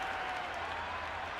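Stadium crowd applauding and cheering after a boundary in the cricket video game Cricket 26, set at Karachi National Stadium, a steady dense wash of clapping filling the whole moment without talk.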